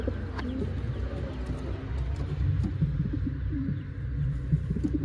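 Pigeons coo on a street, including an escaped Sabuni pigeon, with low, repeated throaty calls running steadily and fairly close, alongside faint higher chirps.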